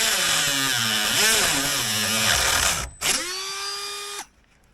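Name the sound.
Dremel cutting disc cutting through wood and screw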